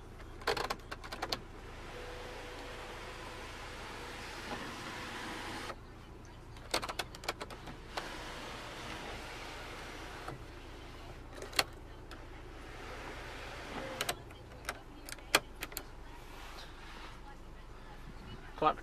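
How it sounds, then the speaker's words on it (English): The power sunroof of a 2013 Volkswagen Golf R runs with a faint, continuous electric motor whir over several seconds, separated by clicks and small interior knocks, with a person talking at times. "power sunroof"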